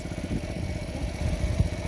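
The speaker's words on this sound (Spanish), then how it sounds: "Hay una moto hasta allá, van ellos, ya ve." A motorcycle engine drones steadily and rough throughout, close and moderately loud, with no talking over it.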